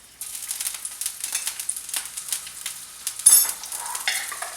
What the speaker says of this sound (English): we're gonna go ahead and saute that